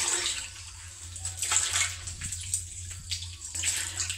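Water poured into a mix of termite-nest fertilizer for watering vegetables, a soft splashing and trickling stream that swells and fades in a few close waves.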